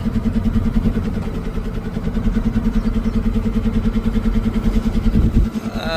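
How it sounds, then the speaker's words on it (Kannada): A vehicle engine drones steadily on a narrow ghat road, a loud, close, rhythmic mid-pitched hum that holds for several seconds, with no voices. "ಗಾಡಿ ಬರ್ತಾ ಇದೆ."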